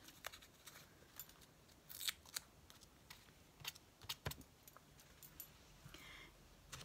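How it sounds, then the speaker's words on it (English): Scissors snip paper while a mixed media art page is made, a string of small crisp cuts and rustles at close range, faint and irregular, with no talk. "I'll just cut a little bit of that off."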